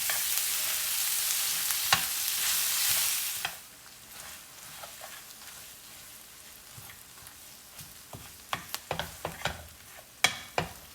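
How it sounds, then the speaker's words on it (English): Corned beef frying in a pan and being broken apart, starting with a loud steady sizzle that drops away to quieter crackles, then scattered scraping and stirring knocks near the end. "Now add the corned beef, breaking the meat into smaller pieces. Cook for about 3 to 5 minutes."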